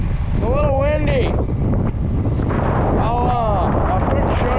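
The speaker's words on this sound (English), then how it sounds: "It's a little windy." Steady wind buffets the microphone outdoors in an organic corn field during tine weeding, a constant broadband rush with gusts throughout, while a voice talks over it.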